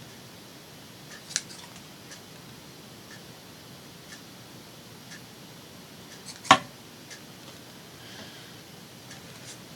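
Scissors trimming the ends of ribbon bows on a craft project: two sharp, isolated snips, a light one early and a louder, crisper cut later, against a quiet room with faint rustling.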